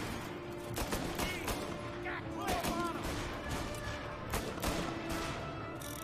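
Gunfire in the video game Mafia: Definitive Edition cracks out in a series of sharp shots, spaced irregularly over a steady game background, with someone talking at points between the bursts.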